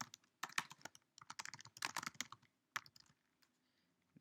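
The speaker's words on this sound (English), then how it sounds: "So I'm just going to type these in." Jersey numbers are typed on a computer keyboard while setting up a game log, producing bursts of quick, close key clicks in uneven runs, pausing, then a few isolated taps before falling quiet.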